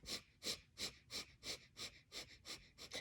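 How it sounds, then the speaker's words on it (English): Rapid, forceful kapalabhati pranayama breaths, about nine sharp nasal exhalations in an even quick rhythm over three seconds, close and fairly soft, with no talking. "kapalabhati pranayam, which is a rapid fire breath, where you do inhale and exhale fast"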